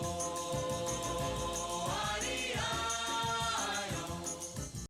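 A 1960s single plays as a steady, full-bodied recorded song with sustained melodic lines over a continuous rhythmic backing, fading slightly at the very end.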